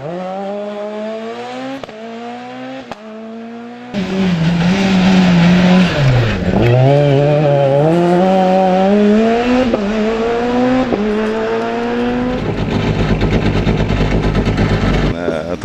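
A Peugeot 207 rally car races at a hill climb, its engine revving up loud and close, rising through the gears with a few brief lifts before roaring on at full throttle.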